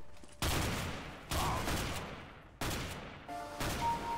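Bursts of automatic gunfire from the shooter game CS:GO, four loud volleys separated by brief pauses, each starting sharply and then trailing off, with faint tones in the background and no talking.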